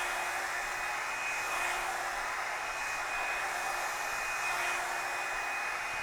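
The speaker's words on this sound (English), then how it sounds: "Really want to blow dry this part up so that it will have lots of body." A Revlon One Step hair dryer and styler blows steadily while drying and lifting a section of hair for volume, a loud continuous whoosh with a high motor whine that holds at even strength throughout, with no talking.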